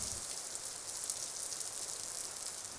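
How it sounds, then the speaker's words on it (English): Steady rain falls outdoors on a stormy morning in Mauritius, a soft continuous hiss at moderate distance with no voices. "it'd be such a shame if it's raining for the whole thing, wouldn't it?"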